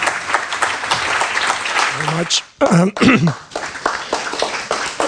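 An audience at a talk on the Unified Patent Court applauds with dense, steady clapping that fills the room. A brief spoken word interrupts midway, then the clapping resumes.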